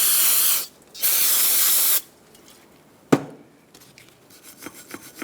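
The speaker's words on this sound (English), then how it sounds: "You can use some brake parts cleaner to rinse." Brake parts cleaner sprays in two sharp, steady hissing bursts close by on front brake parts of a 2012-2018 Ford Focus, followed by a clack and faint scraping of a tool.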